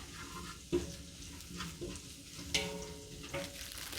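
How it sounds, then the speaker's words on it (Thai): Garlic stir-frying in oil until golden, a faint steady sizzle with a few soft clicks and scrapes of a spatula against the pan, quiet and continuous. "กระเทียมค่ะ ผัดให้เหลืองนะคะ"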